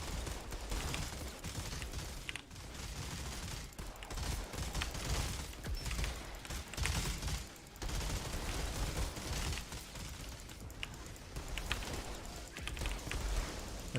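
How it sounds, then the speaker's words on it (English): Pistol shots in the Outriders shooter game, repeated sharp cracks fairly faint within a busy, continuous din of combat noise. "So I can pistol this guy to death"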